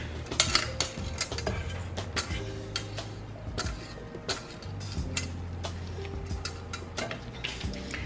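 Flour being mixed into pineapple cream cheese pound cake batter, with repeated clinks and rhythmic ticking taps of a utensil or beater against the bowl, close and fairly steady, without voices.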